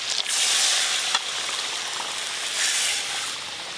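Spice paste mixed with water is poured into a hot pan with carrots and beans, raising a loud, steady, close hiss and sizzle that swells and eases, with no talking.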